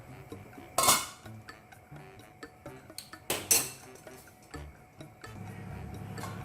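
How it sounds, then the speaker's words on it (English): A spoon stirring shrimp tom yum soup with fresh spices in a pot gives scattered clinks and taps against the metal, with two sharper knocks standing out. The sounds are close and fairly quiet. "Give it a good stir."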